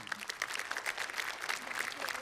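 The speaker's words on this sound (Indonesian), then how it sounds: "Tepuk tangan dulu untuk kita semua." A crowd claps steadily at a formal debate event, a dense patter of many hands, with some voices mixed into the applause.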